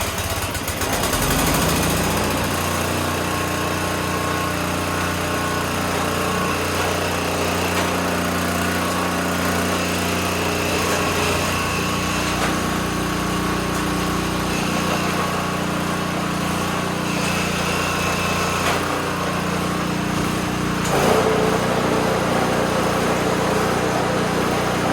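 An Ariens 624 snowblower engine, just refilled with fresh oil and gas, runs steadily at close range with a constant buzzing drone and a slight change in pitch near the end, no voices over it.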